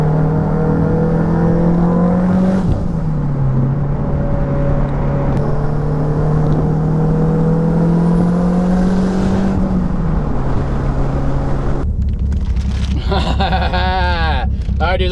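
A K-swapped Toyota MR2 drives along with a steady engine hum and tonal whine that shifts pitch between gears, heard from inside the car with road noise and someone speaking.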